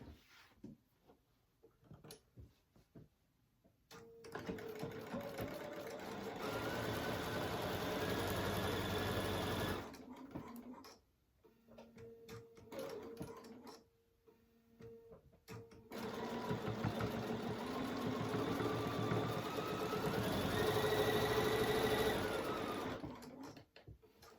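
A sewing machine quilts at a 3.0 stitch length on a crochet needle case in two long, steady runs of rapid whirring stitching, separated by a quiet pause with small handling noises, fairly soft overall.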